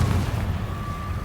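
Confringo fire blast spell cast in Hogwarts Legacy, a brief, dense low boom with a rumbling tail, heard alone.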